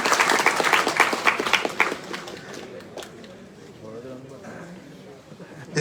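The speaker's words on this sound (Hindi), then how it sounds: "ताली बजाओ इनके लिए।" Students at a KPGU Vadodara gathering applaud a fellow student with a short burst of loud, close clapping that fades after about two seconds, leaving faint room noise and a speaking voice.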